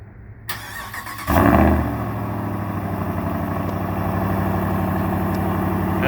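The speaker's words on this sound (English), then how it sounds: "I figured you might want to hear this thing start up" A 2022 Ram 1500 with the GT package, factory exhaust and a Mopar cold air intake, cold starts: a crank into a loud flare about a second in, then settling into a steady, deep idle close by.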